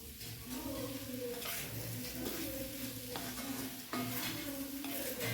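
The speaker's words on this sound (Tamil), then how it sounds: "இது சிம்மிலேயே வச்சு நல்லா ஃப்ரை ஆகுதும்" Potatoes fry on a low flame in a pan, giving a soft, continuous sizzle with occasional scraping stirs, quiet beneath background music.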